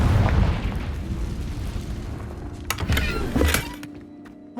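A Confringo fire spell bursts in Hogwarts Legacy, a heavy booming explosion with a low rumble, followed by a couple of sharper crackling pops near the end as the blast fades.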